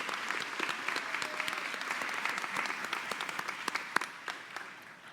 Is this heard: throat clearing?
no